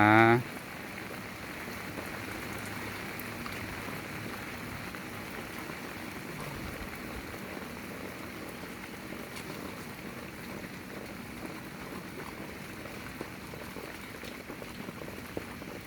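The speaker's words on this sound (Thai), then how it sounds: "ฝนตกเล่นใหญ่เลยนะคะ" Heavy rain pours down in a continuous dense hiss after a brief louder burst at the start, steady and enveloping throughout with no clear voices.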